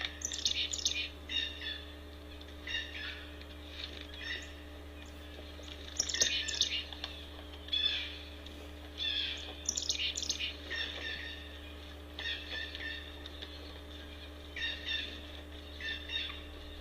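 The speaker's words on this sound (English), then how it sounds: "Well, even the birds are extra active today." Wild birds chirp and squawk in repeated bursts at a backyard wildlife feeding spot, lively calls coming and going over a steady low hum, with no talking.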